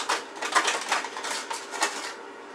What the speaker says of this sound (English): give the potatoes and whatnot a mix